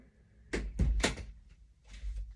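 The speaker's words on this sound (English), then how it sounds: "So let me shut my door." A door in a home is pushed shut: a few close, sharp knocks and a thud of the latch in quick succession, followed by faint handling noise.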